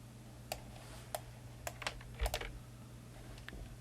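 Someone types a number on a computer keyboard, a few sparse, crisp key clicks spaced irregularly, quiet and close with a faint electrical hum beneath.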